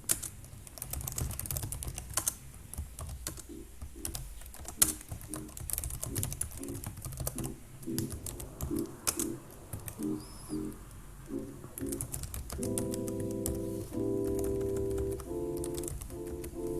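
Someone types on a computer keyboard while opening a terminal to compile a C program. There are close, quick irregular clicks and keystroke bursts, then a steadier run of tapping near the end, with no talking.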